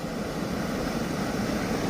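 Water released from Manikdoh dam flows with a dense, steady rushing wash, continuous and unbroken throughout the short stretch.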